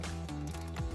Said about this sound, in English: So we'll take that 10mm socket